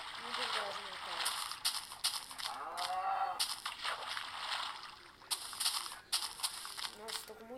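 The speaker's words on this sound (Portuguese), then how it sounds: "Aí não, é uma vaca filhote." A baby cow in the mobile Android version of Minecraft moos in several short repeated calls, clear and fairly close, with someone speaking between and around them.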